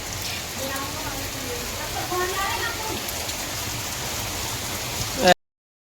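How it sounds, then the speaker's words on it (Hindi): Light drizzle just beginning, a soft steady patter of raindrops on surfaces with someone speaking over it before it cuts off abruptly. "हल्का-हल्का बूंदाबांदी शुरू हो गई है।"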